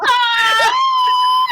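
A person screams in a high, sustained wail through a live vampire tabletop roleplaying game, loud and close, holding a steady pitch with a brief break midway, and no talk over it.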